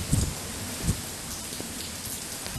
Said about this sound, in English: The wind is swirling, the rain.